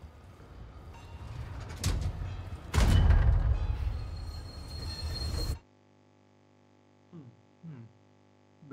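Rumbling train ride on rails in the video game Resident Evil 4 Remake, a loud dense roar with clanks for about five seconds that cuts off abruptly, followed by near silence with a few faint knocks.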